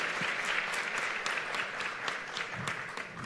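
A conference audience gives the panelists another round of applause, a full, steady burst of clapping from many hands that holds for the whole stretch.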